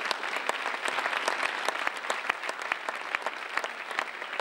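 An audience at a band concert in Ovaro breaks into sustained applause, a dense, even patter of many hands clapping with a few sharper claps standing out, moderately loud.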